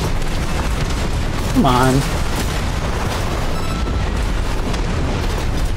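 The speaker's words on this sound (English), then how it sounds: "That's a lot of missiles." Dense, continuous missile explosions rumble through a chaotic Armored Core VI battle, a steady barrage of booms at close range, with someone briefly speaking over the din.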